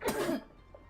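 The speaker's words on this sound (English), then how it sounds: "That's the first cough" A single short cough from a man at home, sharp and close, quickly fading into quiet.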